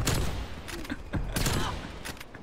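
Sniper rifle shots in Call of Duty Cold War, several sharp cracks spaced across a few seconds amid game noise, loud and close.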